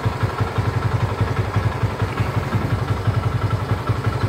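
A Yamaha SZ motorcycle engine with a carburetor leak idles at high RPM, warmed up, giving a fast, steady clattering putter with a strong low throb, loud and close with no voices.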